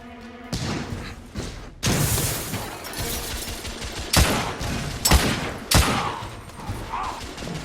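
Shotgun blasts in The Order: 1886, several heavy, separate booms spaced a second or so apart, loud and close amid background combat noise.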